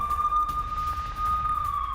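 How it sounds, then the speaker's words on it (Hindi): An air raid siren wails over Tel Aviv, a loud sustained steady tone holding throughout with faint background rumble beneath and no speech. "एयर रेड अलर्ट सामने आया और देखिए हमले का अलर्ट आने के बाद तेल अवीव में सायरन बजा है।"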